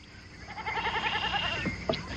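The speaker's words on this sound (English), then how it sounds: "That could be a mad goat." A goat lets out a long, wavering bleat, loud and close, followed by a short second cry.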